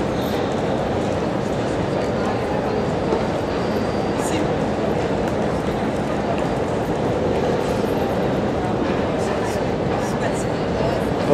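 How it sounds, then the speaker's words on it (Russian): A Madrid metro subway train rumbles steadily with a continuous dense roar and clatter throughout, loud and close, with faint voices mixed into the noise. "находимся в метро"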